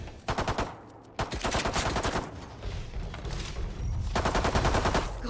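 Video game gunfire, sustained automatic bursts from weapons with sharp repeated cracks, loud and close, broken by a brief pause and then another long volley.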